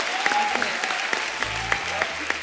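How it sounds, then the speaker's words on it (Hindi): Applause rises from the studio audience of The Kapil Sharma Show as cricketer guests arrive, a steady bed of clapping with crisp individual claps standing out, under background music and faint voices. "जोरदार तालियां हो जाए।"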